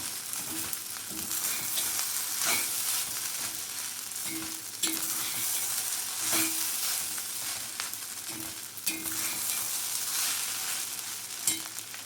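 Paneer mushroom fried rice is stirred and tossed in a hot pan, a continuous moderate sizzle punctuated by repeated scraping clinks of a spatula against the pan, close by with no talking.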